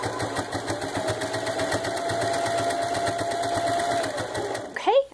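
A sewing machine runs steadily while stitching a quilt top seam, a fast even mechanical whir with rapid needle ticks held continuously at close range, then a brief clatter as it stops.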